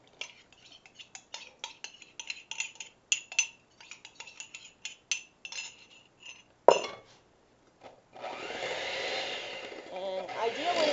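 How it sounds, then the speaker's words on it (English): Several light clinks of utensils and dishes come first. Then a single-speed blender starts mixing a batter of olive oil, yogurt and juice, with a loud, steady whirring roar that continues to the end. "this blender only has 1 speed because I work with what I've got"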